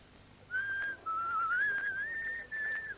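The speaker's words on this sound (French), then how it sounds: "je siffle, on ne devait pas les troubler" A person whistling a wavering melodic tune, a clear close pure tone in a few phrases with short pauses between them, alone without talk.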